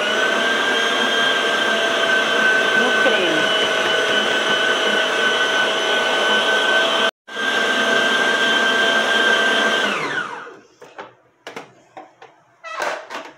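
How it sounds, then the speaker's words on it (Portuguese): An electric mixer beats cream with Ninho milk powder in a loud, steady whir that briefly cuts out, then runs again and winds down, followed by a few clinks. "Agora a gente vai bater mais um pouquinho, só pra esse ninho se agregar"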